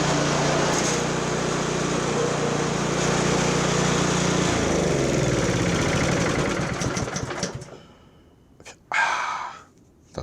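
A Murray snow blower's small engine runs loud and steady close by, a rough mid-range drone that carries on for several seconds before it is cut off, leaving quiet broken by a short burst of noise.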